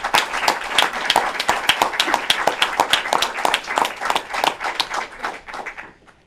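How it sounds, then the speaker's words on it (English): A room at a New York COVID briefing breaks into applause, a steady burst of many hands clapping close by that runs several seconds before fading out. "That does deserve a round of applause."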